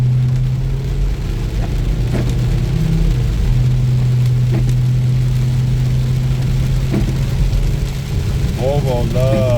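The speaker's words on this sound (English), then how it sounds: "Volvo loves the wet, cold rain, man." Volvo V70 XC AWD with a turbo engine cruising in cold rain on Mount Baldy, a steady loud engine drone and road hiss filling the cabin while someone talks.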